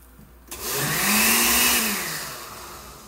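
A small blender whirs to life after a brief pause, grinding ingredients with liquid for tamales, its loud grinding roar steady for a moment and then easing slightly toward the end.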